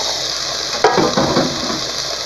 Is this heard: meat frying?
yes